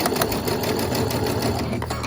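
A sewing machine chain piecing fabric pieces, a loud, close, continuous rapid stitching whir at an even pace, with no voices over it.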